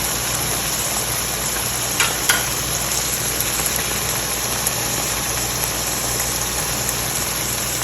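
Chopped green chilies and ginger frying in chicken qeema, a steady dense sizzle in hot oil with a couple of faint clinks from stirring, no voices.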